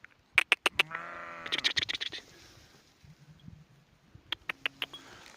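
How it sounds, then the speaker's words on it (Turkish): Sheep bleating on a farm, several short calls in quick bursts followed by a longer wavering bleat, then another cluster of brief bleats near the end, fairly close with quiet background. "Ha bizim koyunlar da buradadır."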